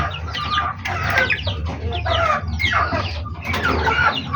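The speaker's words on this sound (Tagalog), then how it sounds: "Ang alaga natin yung sisiw, palakihin." Young chicks around three months old peep and cluck close by in repeated bursts, with a steady low background hum and no talking.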